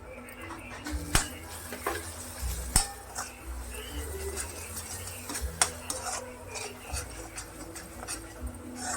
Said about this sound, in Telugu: ఒక స్పూన్ ధనియా పౌడర్, అలాగే గరం మసాలా పౌడర్ యాడ్ చేసుకొని కలిపేసుకో.